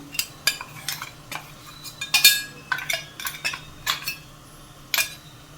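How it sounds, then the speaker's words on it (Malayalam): Spice masala is stirred into hot oil in a pan on a low flame, with a series of quick metal-on-pan scrapes and clinks in an irregular rhythm, close and fairly loud, with only a faint sizzle underneath. "ഇത് നമുക്കൊന്ന് ഇളക്കി മിക്സ് ചെയ്യാം"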